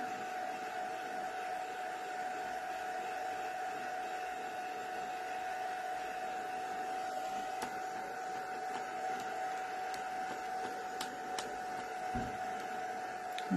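A handheld heat dryer blows steadily on damp craft card, a continuous close whirring hum with a constant airy rush and faint clicks, holding level throughout.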